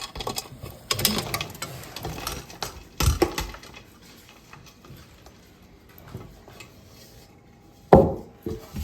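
Fried chicken pieces are stirred into biryani gravy in a large 20-litre pot. Metal utensils clank and scrape against the pot in uneven bursts, with a sharp knock near the end.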